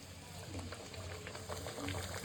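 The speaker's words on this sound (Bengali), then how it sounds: "টাপক টাপক টাপক টাপক করে ফুটছে" Sunflower oil bubbling in a pan while paratha fries, a soft continuous close-up bubbling and popping at low volume, with a voice faintly present.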